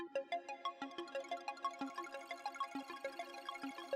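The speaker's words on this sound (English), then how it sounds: "if you turn this on, you get these like little trickles and tinks and stuff in the background" Quiet synth pulse-wave arpeggio run through an effect rack, its bright repeating plucked notes scattered with little trickling, tinkling tones in a steady quick rhythm, alone and faint.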